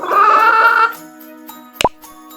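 A hen gives one drawn-out, nasal clucking call close by, followed by near silence and a short, sharp plop.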